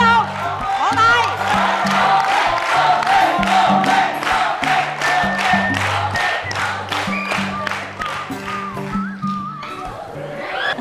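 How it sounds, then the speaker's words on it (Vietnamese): An audience at a Vietnamese comedy show bursts into sustained applause and cheering, dense rhythmic clapping that continues for about ten seconds before tapering, while voices call out over it. "Vỗ tay."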